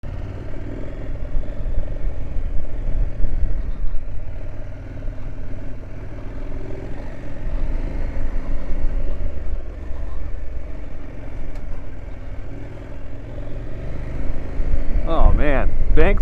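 A 2024 KTM 790 Adventure with Tusk 2 Track tires rides through deep sand whoops and rocks: a steady engine drone close to the rider that rises and falls with throttle, with wind buffeting throughout and a sharp rev near the end.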